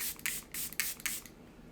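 Glass setting spray is misted from a pump bottle in four quick hissing bursts, close and fairly soft, followed by a moment of quiet.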